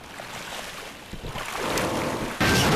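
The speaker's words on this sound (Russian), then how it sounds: "Плеск воды." Water sloshes and splashes in the Black Mesa video game, a steady wash of watery noise that builds and ends in a louder burst, with no voices over it.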